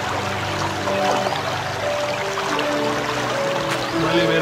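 Water pours in a steady, rushing stream onto a flame in a video game, with a continuous splashing hiss and faint tonal game music underneath.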